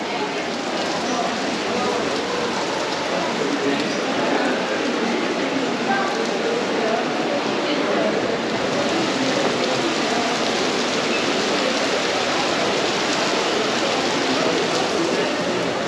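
Steady heavy rain hisses continuously at Lake Annecy, a dense even wash of drops close by with no pauses.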